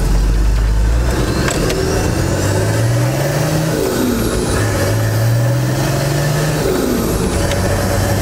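Turbocharged TD42 diesel engine in a Nissan Patrol accelerates through several gears, a steady heard-from-inside drone with rising engine pitch sweeps and a faint turbo whistle climbing above it.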